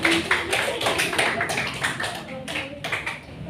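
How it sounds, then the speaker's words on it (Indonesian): Schoolchildren clap their hands together in an elementary school classroom, a spread of close, overlapping claps that rises and thins over a few seconds while a teacher's voice talks over them. "Betul, tepuk tangan."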